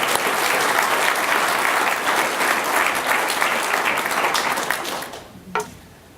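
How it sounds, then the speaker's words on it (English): An audience at an event for a watershed organization claps in a dense, steady wave of applause that tapers off near the end, leaving a few scattered claps. "Yeah, that deserves a round of applause"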